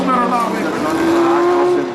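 A historic Lotus 21 Formula 1 race car roars past at the Monaco historic Grand Prix, its engine note loud and sustained, rising in pitch, while a commentator talks over it.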